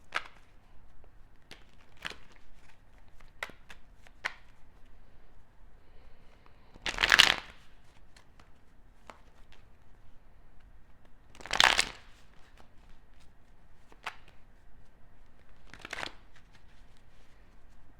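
A tarot deck is shuffled and cut in a quiet room. Faint card flicks and taps are scattered throughout, and two louder riffle shuffles come about four seconds apart.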